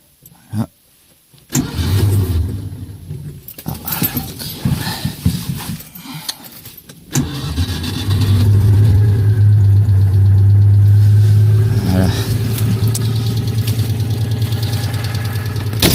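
A Citroën 2CV6 cranks over with a few uneven attempts, then catches and settles into a steady, close, loud idle with a slight knocking flutter.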